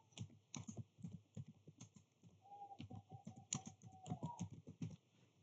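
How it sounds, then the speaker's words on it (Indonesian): Typing on a computer keyboard, a quiet run of irregular key clicks in bursts, fairly close, with a faint bird-like chirping tone partway through. "Lalu kita ketik do show VLAN brief."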